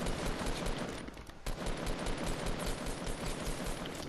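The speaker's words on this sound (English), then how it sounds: "Somebody's probably shooting him." Sustained automatic gunfire in a video game, a dense, continuous rattle of rapid shots at steady loudness with a brief dip in the middle before resuming.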